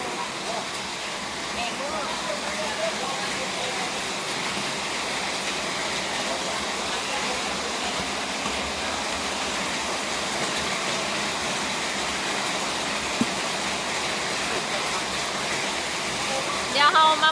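Heavy rain pours down at night in a rural Lao or Thai village, a dense steady hiss that fills the scene throughout.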